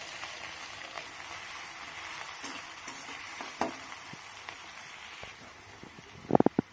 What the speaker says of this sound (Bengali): এবারে তেলের মধ্যে দিয়ে দেবো পেঁয়াজ কুচি